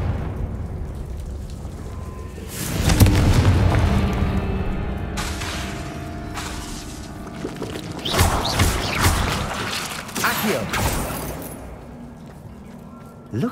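Confringo fire spells cast in Hogwarts Legacy burst as booming, rumbling blasts, one heavy explosion early on and a cluster of sharper crackling bursts later, with a lingering roar between them.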